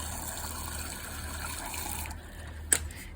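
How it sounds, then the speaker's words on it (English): Water running into the recovery tank of a carpet shampooer through a hole in its bottom, a steady gushing flow that cuts off, followed by a single sharp knock, close and moderately loud with no talking. "you're going to put water through this hole right here on the bottom"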